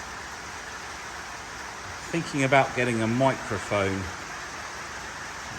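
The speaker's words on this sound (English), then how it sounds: "sorry about the rain. I know you're going to hear it." Steady rain falls outdoors around a 2021 Skoda Kodiaq Sportline, giving a constant soft hiss from start to finish, with someone talking over it partway through.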